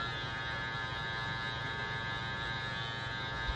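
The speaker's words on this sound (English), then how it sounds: "We dig it out with the corner of the clipper, bam." Electric hair clipper running during a barbershop haircut, a steady faint buzz with mains-like hum, continuous and uninterrupted, with no talking.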